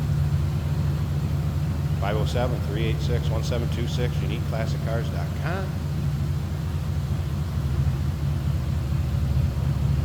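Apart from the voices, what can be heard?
1951 Ford Custom two-door sedan street rod driving down the road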